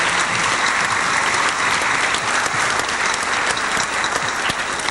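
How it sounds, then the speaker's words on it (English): A large audience in a university hall applauds Bishop Carlos Filipe X. Belo, with a loud, dense and sustained wash of clapping that holds steady throughout. "Can we once more give him a very big applause?"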